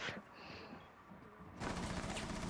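Quiet ambience in Rainbow Six Siege gives way to a burst of sustained automatic gunfire that starts abruptly in the second half and continues loudly to the end.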